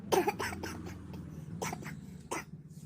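A person with a lingering cold coughs in a run of sharp, close bursts, several hacking coughs clustered early and more at intervals through the clip.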